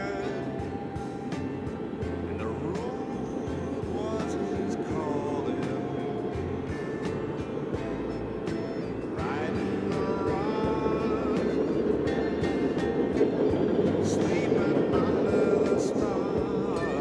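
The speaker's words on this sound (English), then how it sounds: "And there's a train on it right now." A long freight train rumbles steadily across a river causeway at a distance, a continuous rolling drone with faint metallic squeals and clanks, heard from the outside over ambient noise.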